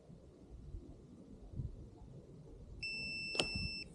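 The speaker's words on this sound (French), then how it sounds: "On attend le bip caractéristique." Electric scooter, an RCB D7, gives a single short electronic beep after its unlock procedure, heard faintly over quiet background noise near the end.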